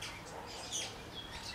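A forest bird in Kakamega Forest gives a few short, faint chirping calls over quiet woodland ambience, the notes thin and scattered rather than a continuous song.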